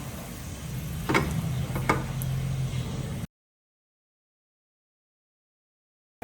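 Dried chillies frying and being stirred in hot oil in a pan, a steady faint sizzle with two soft scraping taps of the spoon, cut off abruptly into silence partway through.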